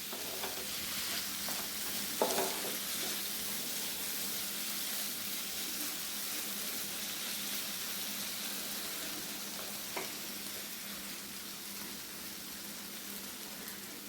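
Chena and vanpayar mezhukkupuratti fries in a pan with a continuous soft sizzle, broken by a few brief scraping stirs of the spoon, close and even throughout.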